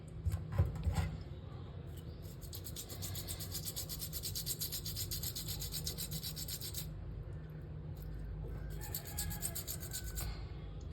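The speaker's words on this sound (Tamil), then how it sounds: "நல்லா ஃப்ரெஷ்ஷான மீன்னா மட்டும்தான் உங்களால இப்படி பிரஷ் போட்டு கழுவ முடியும்." A stiff brush scrubs a fresh mural fish clean in quick, repeated rasping strokes, close and fairly quiet, with a few short pauses between bursts.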